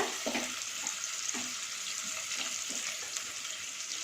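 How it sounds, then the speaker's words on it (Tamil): Onions sautéing in a pan for mint biryani: a constant bright sizzle with a few soft stirring scrapes and taps spaced through it, nearby and with no speech. "இப்போ இதை நல்லா வதக்கி விடுங்க."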